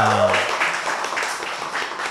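Dense, steady applause from an audience cheering the Kompos team, a full wash of clapping that holds at an even level throughout, with a brief tone at the start.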